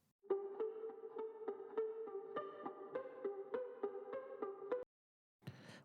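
A plucked ukulele melody from an indie/alt pop song in a steady rhythm of bright repeated notes for about four and a half seconds, then a short burst of another sound.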